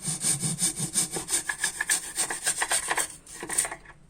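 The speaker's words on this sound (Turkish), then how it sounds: "Aynısını diğer çıtamızın köşesini kesiyorum." A handsaw cuts the corner of a wooden wall trim strip in quick, even back-and-forth strokes, about a dozen rasping passes close up, slowing and stopping near the end.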